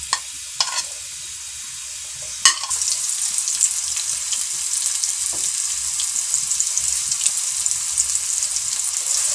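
Onions sizzling lightly in a hot pan for a chickpea curry, a steady close crackling fry with a couple of sharp clinks early on, heard alone without talk.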